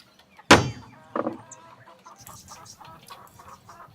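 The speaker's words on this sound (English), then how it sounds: "It's one chicken, mate." A chicken clucks close by, a sharp loud squawk followed by a second burst and a string of softer, scattered clucks and murmurs.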